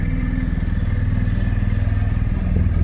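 BMW GS 40 Years Edition motorcycle riding up a hill, its engine a steady, close, throbbing rumble that rises slightly toward the end, heard alone.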